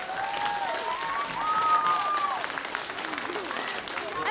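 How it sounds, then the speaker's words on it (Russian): An audience at a summer camp stage show gives sustained, loud applause to welcome a dance group onto the stage. A voice is heard briefly through the clapping. "Аплодисментами встречаем эту замечательную команду."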